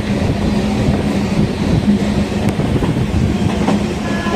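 A Chennai local train on the Beach–Chengalpattu line rumbles steadily along the rails, a loud, constant clatter and roar heard from inside the carriage with no voices.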